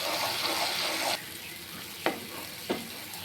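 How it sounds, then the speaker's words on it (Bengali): Spice paste hits hot oil with a loud, bright sizzle that fades after about a second, then softer frying continues with a couple of sharp spoon taps as it is stirred. "এবার আমি দিয়ে দিব তেলে। মশলাটাকে আমি ভালো মতো কষিয়ে নেব।"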